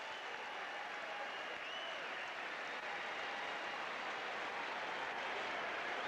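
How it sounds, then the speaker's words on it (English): Baseball fans at a Texas at Boston game at Fenway cheer and applaud after a marriage proposal in the first base stands: a steady, distant wash of crowd clapping and cheering that holds for several seconds with no voices standing out. "The fans are cheering"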